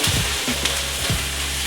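Steak and ale pie filling sizzles and fries in a pan, with a few brief scraping stirs over a steady crackle, close and moderately loud.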